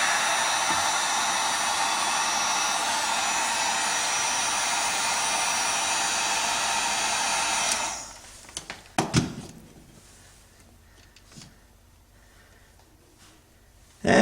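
A heat gun shrinking heat shrink tubing blows with a loud, steady whooshing hiss for about eight seconds, then cuts off, leaving a few light handling clicks and bumps before it briefly starts again at the end.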